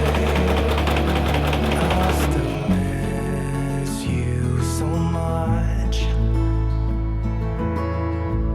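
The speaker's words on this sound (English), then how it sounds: "So we need to go and sew the straight line on" A sewing machine runs continuously and loudly up close, stitching a straight line down shirt front pieces, its motor hum shifting in pitch as the speed changes, with light mechanical rattles throughout.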